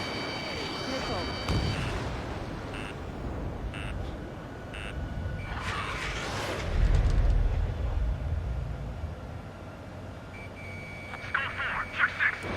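Missile explosions in the Ace Combat 7 jet combat game, muffled booms and rumbling blasts amid warning beeps and cockpit alert tones, with radio chatter in the mix.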